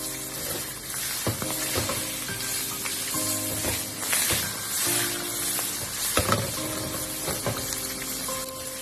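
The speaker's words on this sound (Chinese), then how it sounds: "在煎鱼块的时候，全程都要用小火慢煎" Pieces of grass carp pan-fry slowly in oil over low heat, giving a soft, continuous sizzle with faint scraping and crackling, steady and close, with no talking.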